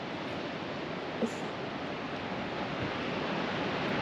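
Rough surf breaking at the foot of sea cliffs on Nusa Penida, a steady broad roar of waves with some wind, constant and fairly distant, no voices.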